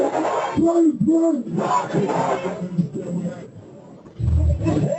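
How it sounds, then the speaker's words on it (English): Protest crowd outdoors after a police shooting, voices chanting a repeated two-beat slogan together, then loud mixed shouting and babble with a burst of roaring near the end. "the gathering crowd begins to take the shape of a full-fledged protest"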